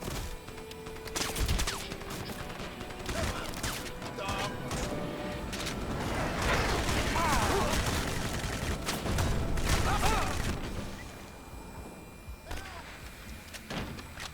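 Rapid bursts of video game gunfire crackle through a busy battle mix, with shots, impacts and crashes piling up over a dense, continuous background of in-game effects and voices.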